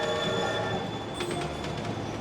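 A train moves along in the video game Kingdom Hearts 2, a steady loud rumble with sustained tonal hum and a few faint metallic clicks, without talk.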